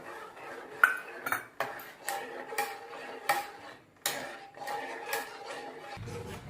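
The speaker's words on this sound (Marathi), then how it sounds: "आपण हा आपण त्यामध्ये थोडा थोडा करून एक जीव करूया मिक्स करूया" A spoon scrapes and knocks against a pan while semolina and jaggery are stirred together, a rhythmic series of close metallic clinks and scrapes, one roughly every half second.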